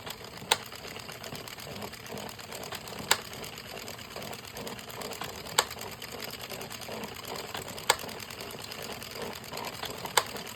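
An Addi or Sentro circular knitting machine is cranked through rows, a steady mechanical clatter with a sharp click roughly every two and a half seconds, close and moderately loud, with no talking.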